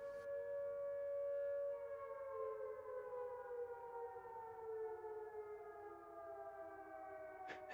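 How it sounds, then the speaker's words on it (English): A wailing in-game siren with layered tones during a Call of War Frontlines match holds steady, then slowly drops in pitch, sounding somewhat distant over faint background noise. "NL ringing the siren."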